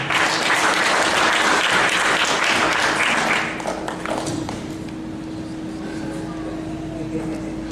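A seminar audience in Kupang claps loudly and densely for about three and a half seconds before the applause thins, leaving a faint hum and scattered murmurs.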